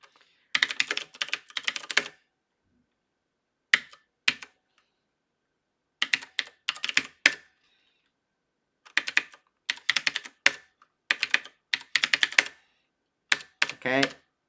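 Rapid keystrokes on a computer keyboard while entering a password, coming in short irregular bursts with pauses between them, close and fairly quiet, with faint voices now and then.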